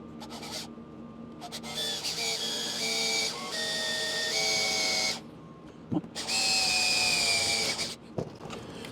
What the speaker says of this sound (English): I'm going to drill a hole right through there.